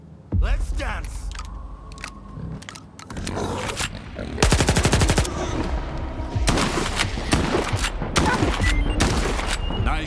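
In STALKER 2: Heart of Chornobyl, dense bursts of automatic gunfire and rapid single shots rattle almost continuously during a creature hunt, loud and close, with a voice speaking over parts of it.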